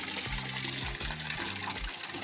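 Water gushes steadily from a cow-mouth spout at a Konkan temple in Nandivade near Ratnagiri, a continuous close splashing flow with rhythmic low surges.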